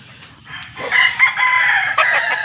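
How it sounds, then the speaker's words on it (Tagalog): Roosters crow loudly and chickens cluck close by on a cacao farm in Pampanga, the calls swelling into a dense, overlapping chorus that continues without pause. "Oh, daghan ka siyang manok."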